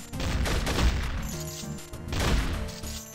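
Shotgun blasts in the zombie survival game Infectonator: Survivors, two loud booming bursts about a second and a half apart, each with a crashing tail over dense game music and effects.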